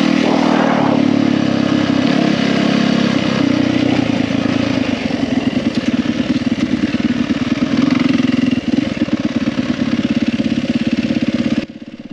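Trail bike engine running steadily while riding down a rutted hill on a bush trail at Greenbank, a continuous close mid-pitched drone with slight rises and dips in revs throughout.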